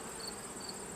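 Honey bees from a docile backyard colony hum steadily at an opened hive, a soft, continuous buzz close by with a faint high insect whine running throughout.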